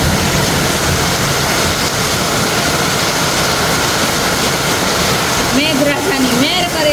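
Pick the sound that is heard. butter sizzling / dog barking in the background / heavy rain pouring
heavy rain pouring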